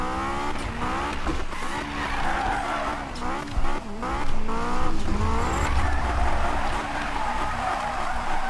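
Simulated Honda S2000 in a racing game spinning donuts, with loud continuous tire squeal and skidding over a revving engine that keeps rising and falling, close and steady throughout.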